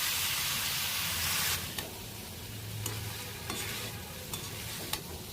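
Spiced cauliflower fries in a pan with a loud hiss at first that settles into a steady sizzle, while a spoon stirs and clinks against the pan at intervals, close and without talk.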